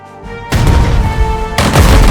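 Mortar infantry attack enemy artillery in the turn-based war game Strategic Mind: Blitzkrieg, a sudden loud blast followed by a rumbling boom and a second heavy impact about a second later.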